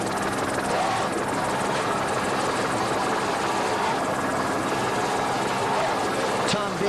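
A helicopter flies over a powerboat race, its steady rotor and engine drone continuous and fairly close throughout, with a voice speaking beneath it.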